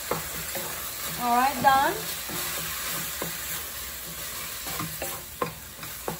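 Chicken filling with sliced green onion is stirred in a pan, with soft scraping and light sizzling throughout and a few sharp utensil taps. A person speaks briefly near the start.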